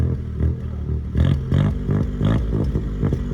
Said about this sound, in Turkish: Yüksek devlerde patlatıyor.